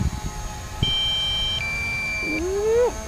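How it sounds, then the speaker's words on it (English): A drone's low-battery warning beeps close by: sustained high tones that shift pitch, followed by a rising whine, loud and insistent with no talking. "Alright, stop beeping."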